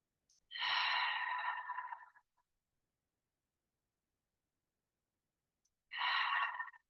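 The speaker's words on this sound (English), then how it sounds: "Reconnecting to that Ujjayi breath." Slow, deep Ujjayi yoga breaths during a recovery session, heard as two long, close, hissing exhales separated by a quiet pause.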